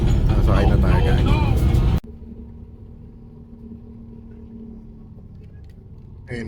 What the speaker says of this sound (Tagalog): Ayun nasa bus na tayo.